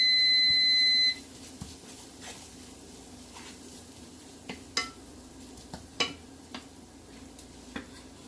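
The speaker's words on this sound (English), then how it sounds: "I did put my little timer on." A small kitchen timer beeps in short, steady tones for about a second while salmon in coconut lime sauce cooks on low heat. Light stirring clinks and pan sounds follow.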